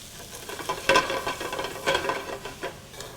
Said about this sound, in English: whenever I'm sauteing mushrooms, I add a pinch of salt to draw out the moisture